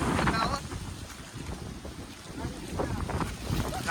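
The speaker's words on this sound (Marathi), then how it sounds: "बेकार वादळ वारा आलाय गावात." Strong storm wind gusts through a village, a steady loud rushing roar with buffeting on the microphone that swells again toward the end.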